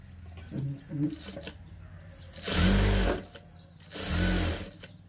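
A sewing machine stitching old saree cloth into a frock runs in two loud whirring bursts, each about a second long, after some quieter handling clicks and a brief murmured voice.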